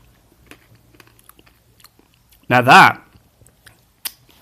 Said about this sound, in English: I'm going to try and break this bit out here, because this is a solid bit of honeycomb.